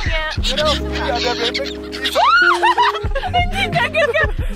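Ducks, geese and other waterfowl in a London park honk and squawk close by, mixed with people chuckling and talking nearby.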